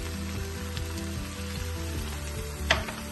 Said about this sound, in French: pour faire revenir nos oignons et nos champignons